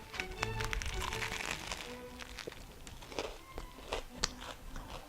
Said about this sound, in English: You can hear that crunchiness.